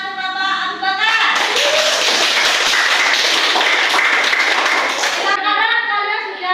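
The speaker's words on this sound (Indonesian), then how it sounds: "Tepuk tangan untuk Bapak Abu Bakar." Students applaud in a classroom during an Islamic religious education lesson, a dense burst of hand clapping lasting about four seconds, preceded and followed by a voice speaking.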